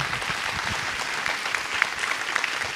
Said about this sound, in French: Et un tonnerre d'applaudissements pour Isabelle et Serge.